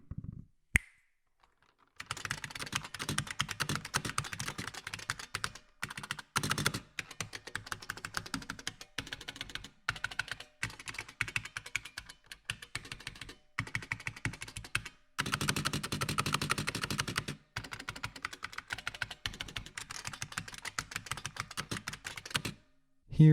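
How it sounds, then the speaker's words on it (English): Typing on an original IBM Model F buckling spring keyboard: rapid, loud clacking keystrokes in long bursts with brief pauses, crisp and close. "Here is a typing test of the original Model F buckling spring keyboard."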